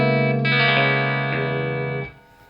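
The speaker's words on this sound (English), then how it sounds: "So I've got a basic old twin reverb set up super clean." An electric guitar played through an old Fender Twin Reverb amp set super clean rings out in sustained chords and notes, loud and up close, before fading away near the end.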